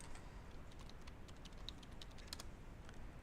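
Clicky keystrokes on a computer keyboard while logging into a Windows server session, a steady run of close, fairly quiet taps with no talking.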